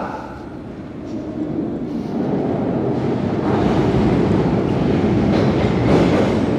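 London Underground train at a station platform, a steady rumbling roar with rattling wheels that swells louder over several seconds, no talk.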